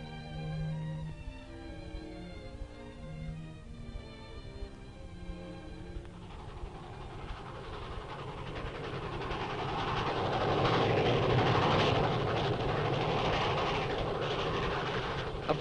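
A train rolls through rural Holtville, Alabama, its broadband rumble swelling from about six seconds and peaking loud near the end, after a stretch of tonal music at the start; no one speaks.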